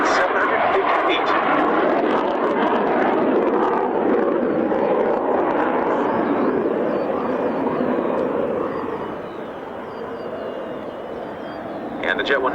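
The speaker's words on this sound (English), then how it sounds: "During the Schneider turn flown at 180 knots, the AMX turn ratio does not exceed 750 feet." An AMX jet flies a tight turn at the Mildenhall Airshow 2001, a loud sustained roaring engine rush that fades slightly, then swells again, while a commentator talks over a public address system.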